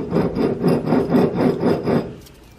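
Worn front wheel bearing on a 2004 Chevy Tahoe 2WD, spun by hand, giving a loud, close, rhythmic rasping grind in five or six even pulses that die out at the end.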